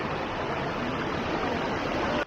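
Marinka waterfall near Minca, Colombia, a busy tourist spot in the afternoon: a steady, loud, broadband rush of falling water fills the whole stretch without a break, with no voices heard over it.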